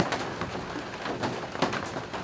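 Steady rain falls outdoors onto a tarp covering a Chevy, a soft, even patter at low level with scattered brighter drop hits and no speech.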